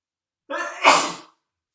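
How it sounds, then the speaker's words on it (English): One loud, close sneeze with a brief inhaled lead-in, then silence. "I might come down because I'm going to sneeze."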